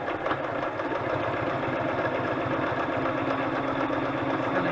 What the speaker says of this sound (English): gonna go ahead and just sew all the way around here